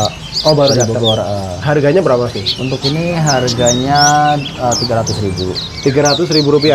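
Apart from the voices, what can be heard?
pleci bustomi (white-eye) bird singing in a kiosk cage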